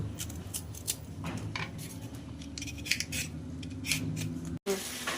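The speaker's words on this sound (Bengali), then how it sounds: "এবার আমি আমগুলোকে ভালো করে ছাড়িয়ে নেব" Green mangoes are peeled by hand in a home kitchen, with a series of small scraping, clicking knife strokes repeating irregularly at close range over a quiet background, with a brief dropout near the end.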